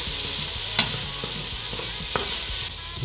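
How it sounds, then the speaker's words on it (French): Lardons browning in a pan with their rendered fat, a steady close sizzle and crackle running throughout, broken by a few soft clinks of a utensil stirring them. "Je fais bien dorer mes lardons."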